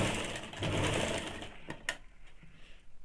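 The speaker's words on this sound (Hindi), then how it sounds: "इसको 1/2 इंच वाले दाग से सिलेंगे और इसको थोड़ा सा हल्का सा खींच के ही रखना है ताकि इसमें सिलवट ना आए" A sewing machine stitches a blouse seam with a fast, loud whirring run for about a second and a half, then stops, followed by a few faint clicks and handling noises.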